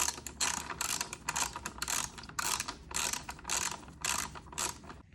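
A ratchet clicks in rapid bursts while bolts are tightened on a Honda OEM mirror meter stay that holds the headlight cowl, each burst close and crisp, with brief pauses between and no talking.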